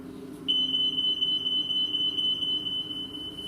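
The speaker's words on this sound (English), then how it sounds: "A smoke alarm!" A smoke alarm suddenly sounds a shrill, piercing high-pitched tone that continues unbroken and loud over a low background hum.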